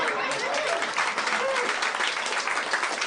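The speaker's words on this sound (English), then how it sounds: "That's probably the first applause he's gotten for that since 1987." Audience applause at a live comedy podcast taping, continuous crowd clapping with a few voices mixed in, steady and fairly loud throughout.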